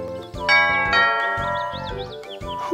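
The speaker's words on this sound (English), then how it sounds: "Perhaps I should ring the bell instead of knocking." A doorbell chimes at a house door in an animated Winnie the Pooh scene, ringing out in a few bright, repeated tinkling tones over soft music, fairly close and clear.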